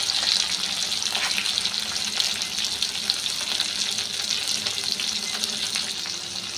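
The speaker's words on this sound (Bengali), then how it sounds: "এবার টমেটোটা একটু তেলেতে ভেজে নেব, মানে একটু নরম করে নেব তেলেতে ভেজে।" Chopped tomato frying in hot oil with potatoes in a pan gives a steady, close, moderately loud sizzle that hisses on evenly with no voices over it.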